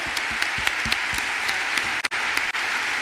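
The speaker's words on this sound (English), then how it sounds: "A round of applause, please, to Magdalena for an amazing interview as well, please." Audience applause after an interview at a panel event, a steady full round of many people clapping from across a hall, with a few sharper individual claps standing out and two brief dips near the end.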